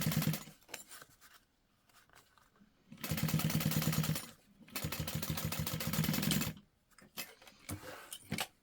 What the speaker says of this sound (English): then give that a top stitch to close it